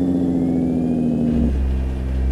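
Jake brake on the high setting of a truck in American Truck Simulator, a steady loud engine-braking drone with strong low harmonics that shifts to a deeper rumble partway through, with no talking.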